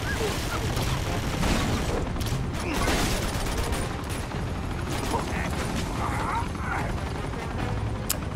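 Helicopter taking gunfire in the video game Uncharted 2, a dense continuous wash of rotor and mechanical rumble with bursts of shots and impacts, loud throughout, with game voices mixed in.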